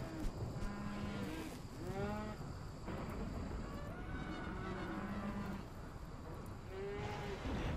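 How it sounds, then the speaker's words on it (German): Cattle in the farming game Rimworld moo repeatedly, several drawn-out lowing calls overlapping one another against a steady background hum, with no voices. "Wir haben verdammt viele Kühe."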